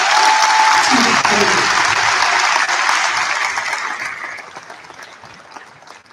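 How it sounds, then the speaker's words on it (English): An audience at a high school senior awards night claps loudly and steadily, a dense wash of applause that tapers off over the last couple of seconds, with faint voices beneath. "let's give a round of applause for those future certifications"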